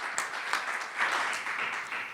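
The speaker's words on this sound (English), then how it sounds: "You can applaud." Scattered audience applause at an Illinois budget mobilization town hall: fairly light, dense clapping from the room, steady for a couple of seconds with a few sharper claps standing out.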